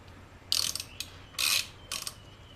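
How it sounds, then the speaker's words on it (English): A ratchet on a 1/2-inch drive extension clicks in three quick bursts while loosening a 15 mm motor mount bolt on a Chevrolet Sonic 1.4L, crisp close clatter separated by short pauses. "You have to remove this first bolt. It's 15 millimeter, and I have an extension, 1/2-inch drive"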